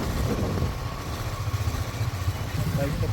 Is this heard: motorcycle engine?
yes